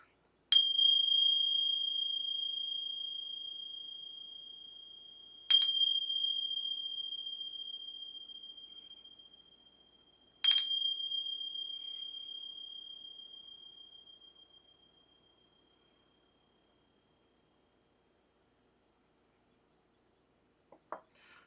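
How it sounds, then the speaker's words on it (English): Three separate bell strikes spaced about five seconds apart, each a clear ringing tone with bright overtones that decays slowly over several seconds and then fades to silence, followed by a faint brief tap near the end. "Gonna ring some bells here to connect."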